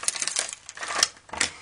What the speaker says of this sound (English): Grab the keys and lock the door.